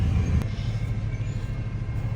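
A freight train rolls past nearby with a steady low rumble and rattle of rail cars, continuous throughout, with a brief sharp metallic clank near the start.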